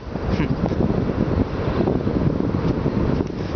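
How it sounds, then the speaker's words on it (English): Wind buffets the microphone outdoors at the aftermath of a burned refrigeration plant, a loud, rumbling, gusty roar that fluctuates constantly and covers everything else. "Sorry about the wind."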